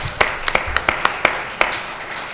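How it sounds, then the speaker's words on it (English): Scattered clapping from a small audience at a humanities and journalism debate follows a name announcement: a handful of sharp, separate claps over about two seconds. "Applause when they just say my name."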